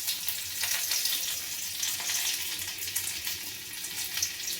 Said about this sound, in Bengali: আমি এবার ফোড়ন দিয়ে দেবো রসুনটা তেলের মধ্যে।